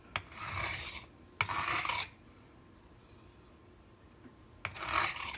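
A MAC chef knife drawn along a sharpening stone in three raspy, gritty strokes, each about a second long with pauses between, close and fairly quiet.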